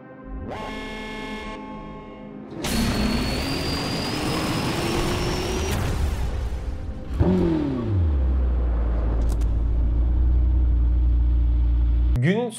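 Lamborghini Temerario 4-litre V8 engine, a 10,000 rpm unit making 800 horsepower, rising in a loud sustained rev sweep, then a brief pause and a deep steady idle-like roar, with a voice talking throughout.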